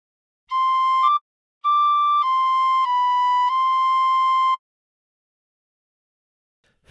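Tin whistle playing a phrase of The Battle Hymn of the Republic: a few clear, bright, sustained notes in a short sequence after a brief pause, loud and close, then silence.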